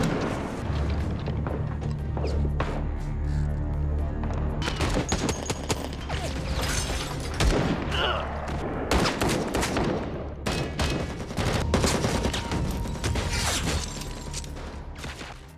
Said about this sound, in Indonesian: Dan terjadilah baku tembak di antara mereka.